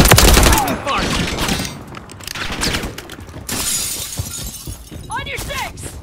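Gunfire and shattering impacts in a Call of Duty MW3 beta multiplayer match, loud dense bursts and cracks alongside radio-style voice callouts from in-game characters.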